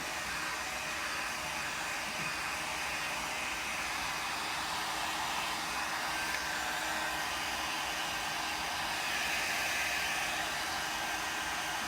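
A hair dryer blows steadily to dry wet paint on a desert rose succulent painting. It is a continuous whooshing drone at an even level from start to finish, close up and with no talking.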